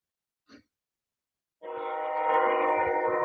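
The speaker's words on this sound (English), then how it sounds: "Got a train going through." A train rumbles through near a Saturday-night workshop, starting abruptly as a loud, steady roar that builds and holds with rattling low tones, after a brief faint sound beforehand.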